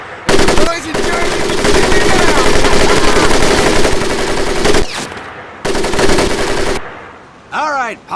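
Sustained automatic weapon fire in the Medal of Honor Pacific Assault video game, loud continuous rattling bursts over several seconds with brief pauses between volleys and a final short burst.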